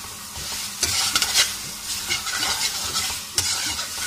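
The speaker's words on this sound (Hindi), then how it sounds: "इसको मैं और भूनूंगा" Chicken malai handi frying and being stirred in a pan, a steady sizzle broken by repeated scraping strokes of a spoon against the metal, close and continuous.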